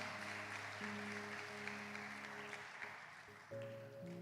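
A church congregation applauds during a worship service. The clapping is a steady wash of noise lasting the whole stretch, with sustained keyboard chords ringing beneath it.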